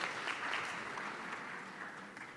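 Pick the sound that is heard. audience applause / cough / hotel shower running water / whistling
audience applause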